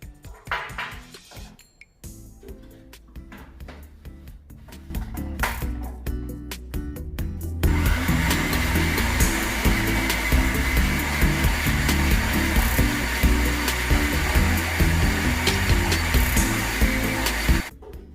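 Electric mixer beating cold butter into banoffee crust dough, first in quieter bursts, then a steady loud whir running continuously for about ten seconds before stopping.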